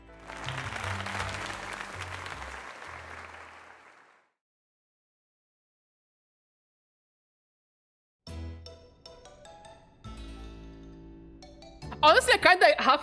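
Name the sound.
audience applause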